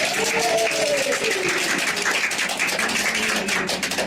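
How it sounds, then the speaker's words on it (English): Audience applause at a live gathering, a continuous dense clatter of clapping hands with a voice briefly speaking underneath at the start, moderately loud and steady throughout. "Please give yourself a big round of applause."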